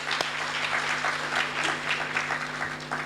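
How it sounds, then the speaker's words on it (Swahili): An audience at a speech event applauds together in a steady wash of clapping that holds for several seconds at moderate, slightly distant loudness. "Tupigie mheshimiwa makofi tena."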